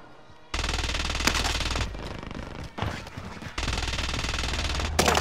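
Sustained automatic gunfire in the video game Warzone, fired at a distant sniper; loud, dense bursts in two long stretches with a brief pause between them, plus a few sharp louder shots standing out.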